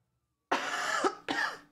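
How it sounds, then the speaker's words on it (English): Two harsh, close coughs from one person, a long rasping cough followed by a shorter one after a brief pause, standing out against silence. "Someday I'll be done coughing."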